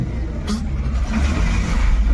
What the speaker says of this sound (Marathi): आता ही बस पास होते